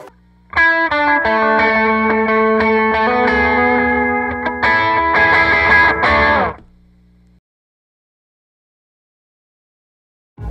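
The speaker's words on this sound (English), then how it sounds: "Putting a volume pedal after a delay or a reverb is gonna allow for that delay or that reverb to be cut" Distorted electric guitar chords ring out with echoing delay and reverb, then a volume pedal placed after the effects cuts the sound off sharply, leaving silence.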